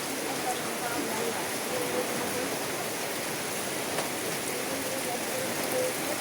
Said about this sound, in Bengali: কিভাবে ঝড় বৃষ্টি আল্লাহ তালা ঈদের আগের দিনে দিয়েছে